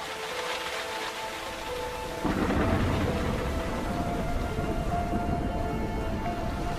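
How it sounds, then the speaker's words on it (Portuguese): Heavy rain turning to hail at near-freezing temperatures in the far north of the Nordic countries, a steady roar that steps up sharply in loudness partway through and stays dense to the end. "a chuva transforma-se em granizo, que anuncia o inverno"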